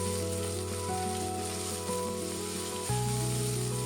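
Cubed potato sizzles steadily in hot oil with cumin, a dense continuous frying hiss that swells slightly louder near the end.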